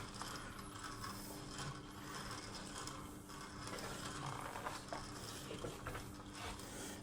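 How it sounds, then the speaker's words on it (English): A MoJack Pro mower lift is lowered with its rear locks released, giving a close, continuous metallic ratcheting clatter of pawls and gears that runs without pause. "now I can lower it down. So you're basically disengaging the locks in the back"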